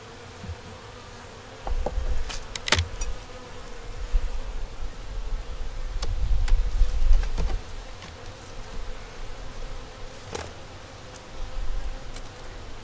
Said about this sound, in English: showing y'all these bees